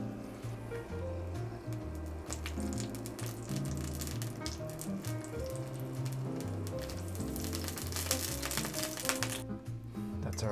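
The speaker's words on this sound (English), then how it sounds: "our oil is nice and hot. And we're just gonna add our parsley leaves a few at a time" Parsley leaves frying a few at a time in hot oil, a steady crackling sizzle close by with dense popping bursts throughout, alone without talk.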